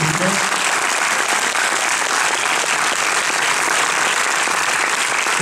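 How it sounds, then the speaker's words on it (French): An audience at a film premiere in Marseille applauds loudly and continuously, a dense, even wash of clapping from a large crowd that fills the whole stretch. "à vous les applaudissements, s'il vous plaît."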